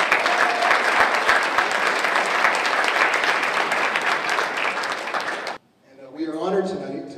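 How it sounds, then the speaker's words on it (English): Loud, sustained audience applause fills a room at a neighborhood association mayoral debate in San Jose, ending abruptly before a voice begins speaking. "So can we get a round of applause for this?"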